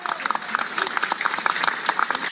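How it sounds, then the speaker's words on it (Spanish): A class applauding in honor of Peruvian ceviche, a steady patter of many hands clapping at moderate volume throughout, with no voice standing out. "Un aplauso para nuestro ceviche."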